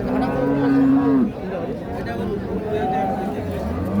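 A Sahiwal bull at a cattle market gives one long, loud moo up front, followed by a busy murmur of nearby talking and crowd chatter.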